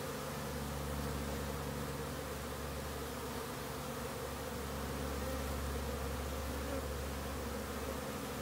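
Honeybees drone in a steady, dense buzz as they move into a swarm trap outdoors, the hum constant and close throughout with no talking.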